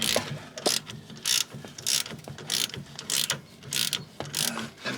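A ratchet clicking rapidly as it tightens tie rod bolts on a BMW E36 M3, sharp metallic bursts in quick rhythmic strokes with short pauses between them, close and clear with no talking.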